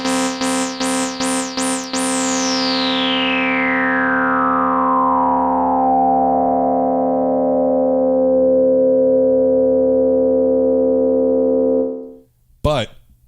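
A Korg ARP Odyssey synthesizer with its filter resonance turned up plays a few quick plucked notes. A bright, whistling resonant sweep then glides steadily downward into a sustained buzzy tone that cuts off abruptly.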